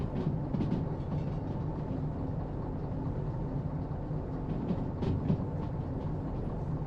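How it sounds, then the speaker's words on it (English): A long freight train rolls along the track in the Derail Valley train simulator, a steady rumbling wheel-and-car noise with faint intermittent clacks, heard alone without speech. "Long old train here."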